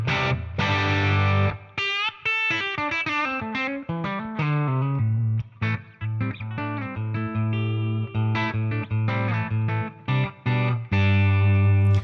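Electric guitar played through an IK iRig HD X interface with an Archie 50 Green Push amp tone: distorted chords and fast single-note runs, loud and continuous with brief pauses, no voices.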